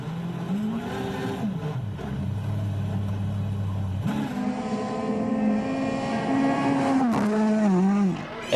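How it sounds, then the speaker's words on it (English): WRC rally car from the 2023 season drifting through a bend, its engine note rising and falling loudly with revving and gear changes, continuous and close throughout. "It is nice when these cars be hitting these drifts, though."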